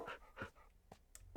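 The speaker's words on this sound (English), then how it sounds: "Oh, there's two doggies." A video-game dog pants in quick, breathy bursts with small whimpering tones, close and fairly quiet.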